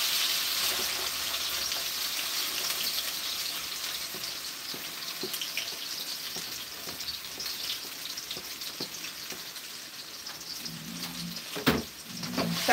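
Onions, bell peppers and tomatoes with thyme leaves sizzle steadily in a wok, a bright hissing fry with occasional pops and a brief clatter near the end, while a voice says a single word early on.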